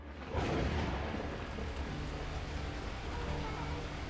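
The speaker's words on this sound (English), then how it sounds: "the heavens opened up, unleashing torrential rain" Torrential rain pours down in the video game Beacon Pines, a dense, steady roar of downpour that swells in suddenly after a brief quiet start and holds loud and unbroken to the end.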